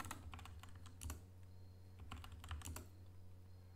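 Someone types a Unix username and password on a computer keyboard, producing quiet bursts of clicky keystrokes in short clusters over a low steady hum, with no talking.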